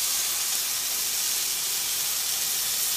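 Pine nuts toast in olive oil in a pan, giving a steady, even bright sizzle and hiss that fills the whole stretch without change; no one talks.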